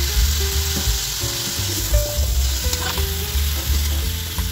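A dish frying loudly in a pan with fish sauce and chili being stirred in, a dense close sizzle with rhythmic scraping and clattering of the spatula, no speech.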